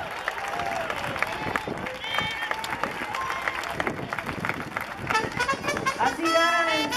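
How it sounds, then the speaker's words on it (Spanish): Scattered clapping from a crowd mixed with chatter and a voice over a loudspeaker, with cheering rising near the end. "Un aplauso a la señora"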